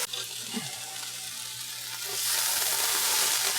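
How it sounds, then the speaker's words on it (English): Tomato pieces sizzling in hot oil in a pan with lentils, stirred with a steady frying hiss that swells louder and brighter partway through, with faint scraping of the stirring; nobody speaks. "I put some of that tomato in there. I'll mix it just to give it a little color."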